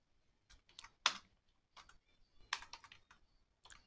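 A router command being entered on a computer keyboard, heard as quiet, irregular clusters of close key clicks with short pauses between bursts, no speech.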